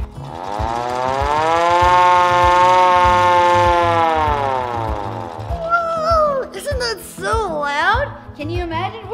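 Hand-cranked siren on an old fire truck winds up into a loud, rising and falling wail lasting several seconds, then fades as excited voices talk and shout over it.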